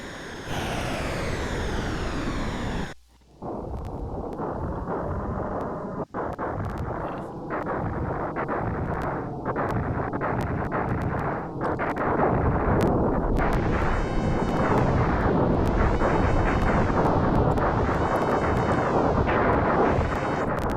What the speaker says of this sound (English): Now shoot the core until it blows up. Just like that. And he explodes into panels.